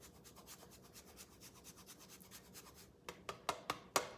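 Vegan parmesan from Violife rubbed against a hand grater, a steady soft rasping for a few seconds that ends in four sharper, louder scraping strokes, close up with no talking.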